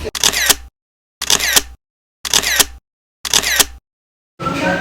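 Camera shutter firing in four rapid bursts of clicks separated by short pauses while group photos are taken at a Christmas party, followed by murmuring room noise.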